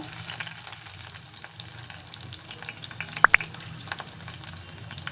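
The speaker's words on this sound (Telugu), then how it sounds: "అందులో ఆయిల్ వేడెక్కినాక ఇందులో పచ్చిమిరపకాయలు, ఉల్లిగడ్డ," Green chilies and onion frying in hot oil, a steady close crackling sizzle with a couple of sharp pops partway through and light stirring, no talking.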